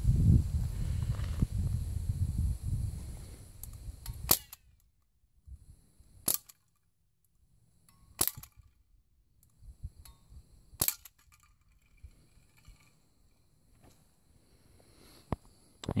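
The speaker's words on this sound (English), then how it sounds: "shooting a Crossman 1077 with a little red dot sight on it" A Crosman 1077 air rifle fitted with a red dot sight fires outdoors at trash and cans, giving several sharp, isolated pops spaced a few seconds apart over quiet ambience, after an opening stretch of rustling handling noise.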